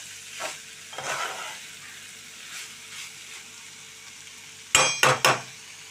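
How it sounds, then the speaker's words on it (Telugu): Cluster beans fry in a pan while being stirred: a soft steady sizzle runs beneath several scraping stir strokes, followed near the end by three sharp metallic clanks of a utensil against the pan. "మనం కలుపుకుంటూ మూత పెట్టి మధ్య మధ్యలో కలుపుతూ ఉండాలండి"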